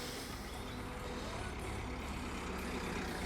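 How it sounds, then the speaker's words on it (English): A car climbs a steep hill and drives past, its engine rumbling steadily at a moderate distance against broadband road and outdoor noise. "Here comes our car."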